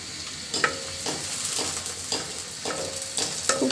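Whole cumin seeds crackle and sizzle in hot oil while bananna flower is cooked, a steady frying hiss with small pops and stirring scrapes, close and alone with no voices.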